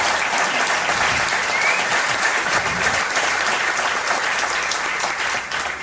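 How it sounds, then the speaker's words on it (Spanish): Loud, dense applause from an audience for a panel of experts seated at a table, sustained evenly throughout and heard alone without talk. "os pido un aplauso para todos ellos que están aquí."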